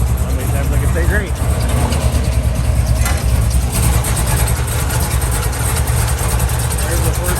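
A 1964 Impala two-door hardtop with a 468 big-block V8 idles through its exhaust, a steady, deep low rumble close by that holds evenly throughout, with muffled voices faintly underneath.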